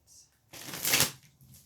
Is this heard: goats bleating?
no